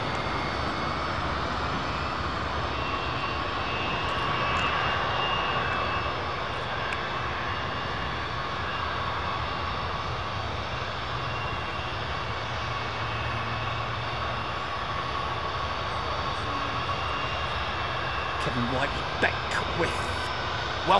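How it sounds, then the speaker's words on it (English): Jet engines of a DHL Boeing 767 taxiing at Miami airport give a continuous broad roar and whine at moderate distance, steady throughout with little change in loudness. "gives this DHL 767 a little bit of time to make its way down the taxiway and join the queue"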